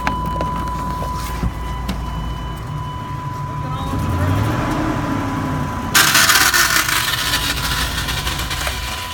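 A 3500 truck's 5.7-liter engine with about 150,000 miles, leaking oil, runs at a steady low rumble close by, with voices talking over it and a louder burst of noise near the end.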